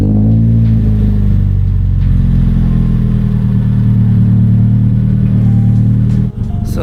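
A Subaru BRZ boxer engine before an unequal length header install revs up and holds a steady, loud drone for several seconds, rumbling close by before cutting off near the end.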